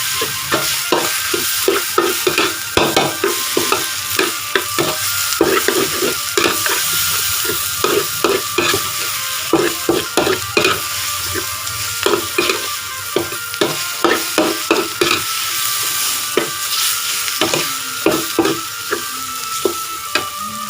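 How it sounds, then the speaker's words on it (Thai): Eel is dry-fried with red curry paste in a hot pan, a continuous sizzle broken by frequent scraping and stirring strokes, close and steady, with no talking. "เอาปลาไหลครับ ลงไปคั่วเลยครับ นี่ครับตัวก็พริกแกงเลยครับคั่วแห้งๆไปเลยครับ"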